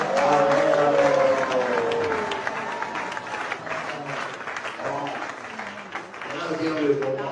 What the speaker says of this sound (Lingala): tout le monde acclame le Seigneur en disant Amen, Amen.